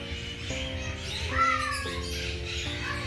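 Squawking and chirping birds in a walk-in zoo aviary at Alipore Zoo, with a sharper call rising briefly over a steady background of bird noise and faint ambient hum.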